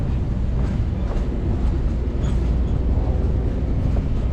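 A train rumbles steadily along a former Southern Railway main line, a loud, continuous low roar with faint rhythmic clatter throughout.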